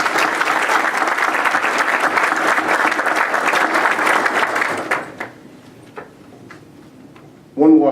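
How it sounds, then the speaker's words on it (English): A crowd at a Rockdale County board of commissioners gathering gives a loud, sustained round of applause that fades out after about five seconds, leaving a quiet room with a few scattered claps. "give them another round of applause"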